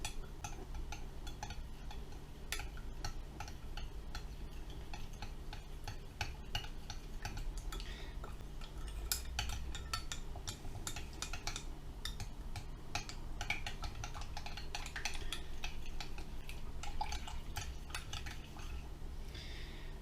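Yeast being stirred into liquid with a utensil: light, quick ticks and clinks against the container repeat irregularly for a long stretch, quiet and close, with a faint low hum beneath.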